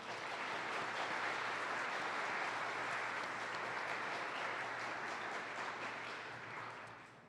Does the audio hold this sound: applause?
yes